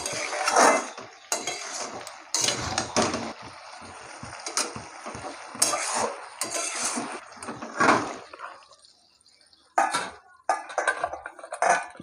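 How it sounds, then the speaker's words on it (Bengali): Muorola fish curry with brinjal being tipped out of a metal cooking pot in a village kitchen, with repeated close clinks and scrapes of a ladle against the pot and soft wet sloshing. "তরকারি হয়ে গেছে তরকারিটা এবার আমি ঢেলে নেব"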